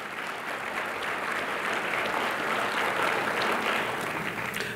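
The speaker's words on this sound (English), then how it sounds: "Give yourselves a big round of applause." Members of an audience clap at a diversity awards ceremony, a full, sustained round of applause that swells slightly midway and carries steadily with no speech over it.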